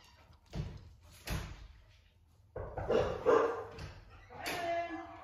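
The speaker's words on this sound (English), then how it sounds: "that was a knock on the door" Knocks land on a home's front door in a few separate sharp bursts, and a dog answers with barks and yips between and after them.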